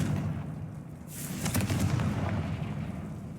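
A Confringo fire spell blasts in Hogwarts Legacy, a burst of cracking detonation near the middle over a steady low game rumble, with a short roaring tail and no voices.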